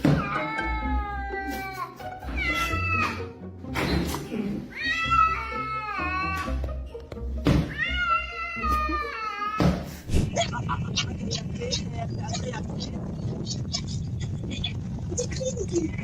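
A cat meows repeatedly, with several loud, drawn-out wavering cries in the first ten seconds, then a busier stretch of noise and mixed sounds, with talking present.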